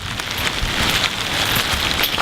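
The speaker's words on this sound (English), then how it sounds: "Wow, it's really raining at this point." Heavy rain pours down steadily, a loud, continuous dense hiss of drops hitting surfaces with no break and no voices.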